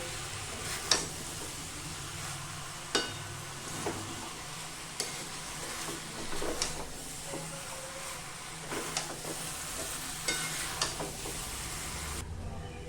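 Jackfruit and potato pieces being stir-fried with spices in a pan, with a soft continuous sizzle broken by intermittent scraping and tapping of a spatula against the pan at an irregular rhythm, close and moderately loud.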